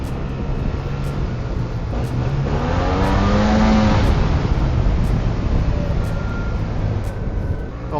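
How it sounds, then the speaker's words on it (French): A Yamaha T-Max scooter with its stock exhaust runs steadily close by. The loud, smooth engine drone swells in pitch midway and then settles back down. "si vous avez un échappement d'origine, sachez que vous aurez un son plus sympa sur le T-Max que sur la MT"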